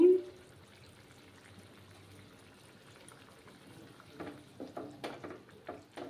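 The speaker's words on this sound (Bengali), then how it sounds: "আর একটু জল দেব আমি।" Water is poured into a simmering coconut milk fish curry, giving a short splash at the start, then quiet bubbling and sizzling that grows into louder irregular pops and crackles near the end.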